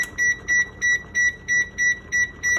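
A kitchen timer beeps repeatedly in an even rhythm, about eight short high-pitched bleeps in under three seconds, clear and close, with no voices.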